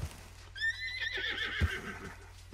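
A horse in the Red Dead Redemption 2 video game lets out a clear, fairly close whinny that rises and trails off, followed by a couple of faint hoof thuds.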